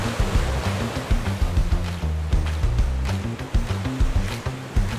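Sea waves wash ashore at a coastal beach, a continuous loud rush of surf with rhythmic swells, heard alone without voices.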